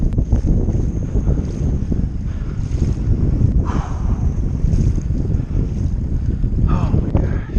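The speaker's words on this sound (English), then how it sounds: "Where did the fuck this wind come from?" Strong storm wind roars and buffets across a ranch, a continuous loud rushing with microphone gusts, heard close and unbroken.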